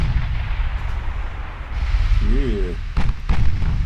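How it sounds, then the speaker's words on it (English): Naval gunfire from warships in the game Ultimate Admiral Dreadnoughts: a continuous rumbling barrage of low booms, with a couple of sharper blasts near the end and a brief voice over the top. "Let's get all those guns firing."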